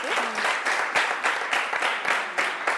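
A television studio audience in Rwanda claps for a drama team, a short burst of fairly close applause with rhythmic, repeated clapping that holds steady at a moderate level throughout.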